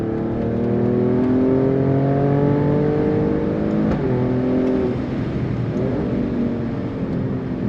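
A 2023 Alfa Romeo Stelvio Quadrifoglio twin-turbo V6 pulls hard under acceleration, its loud engine note climbing and dropping through quick ZF 8-speed upshifts, steady cabin roar throughout without talking.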